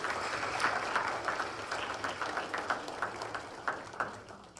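Applause from an audience at a high school athletic awards event, honoring the All-Colonial Conference field hockey players; steady, moderately distant clapping throughout with no talking.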